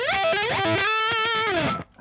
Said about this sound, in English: sliding the pick along the same string. You get the timing right and you get a really cool effect